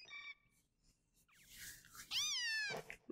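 Litten, the fire-type kitten Pokémon, cries in Pokémon Sun and Moon: a short high mew, then a longer rising-and-falling meow, clear and close over faint game sounds.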